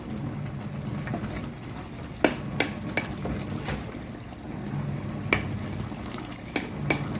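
Khichuri stirring and frying in a pot, a steady soft sizzle with occasional sharp clinks and scrapes of the spoon against the pot at irregular moments, fairly quiet and close.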